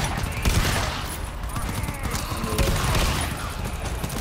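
Dense, continuous gunfire and sustained shooting in the co-op shooter game GTFO, a steady barrage with overlapping shots from the game's enemies and players, heard throughout at constant loudness.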